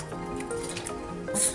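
Water splashes and squelches as it is poured into a kadai holding tamarind and date paste for chutney, with soft dripping and sloshing over a faint background hum.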